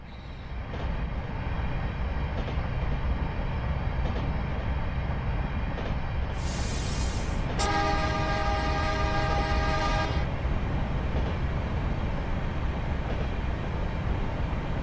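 A passenger train horn in Train Sim Classic on the San Francisco to Sacramento interurban line, a single loud sustained chord blowing for a couple of seconds over the steady rumble of the rolling train.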